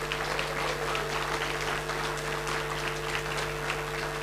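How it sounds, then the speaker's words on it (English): Audience at the launch of the National Payments Strategy gives a steady round of applause, many hands clapping in a dense continuous wash over a low room hum. "And a big round of applause."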